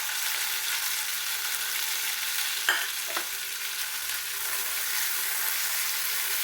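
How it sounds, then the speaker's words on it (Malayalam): Onions and chopped tomatoes frying together in a pan, a steady close sizzle with one or two spoon clinks as they are stirred. "ഇത് രണ്ടും കൂടെ ഒന്നും കൂടെ നല്ലതുപോലെ വാടി വരുന്നിടം വരെ ഇളക്കി കൊടുക്കും"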